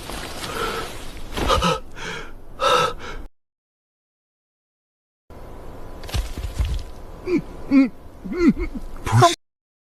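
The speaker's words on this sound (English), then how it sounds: "Surprised, gasping," Sharp surprised gasps from a person in a fantasy animation, several quick breathy intakes in two bursts separated by a few seconds of silence.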